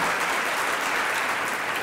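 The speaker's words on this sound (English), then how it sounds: "that applause is for you." Steady applause from a conference audience at a civic gathering fills the room, dense and continuous throughout with no voices over it.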